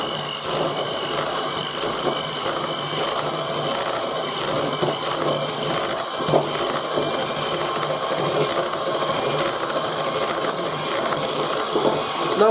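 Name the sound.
electric mixer whipping mascarpone cream and liquid cream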